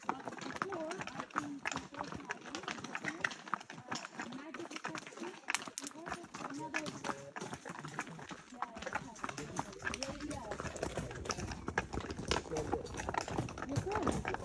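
Horses walk with clip-clopping hooves during a horse ride at Oludeniz, the steady hoof beats partly buried under constant nearby talk and busy outdoor noise.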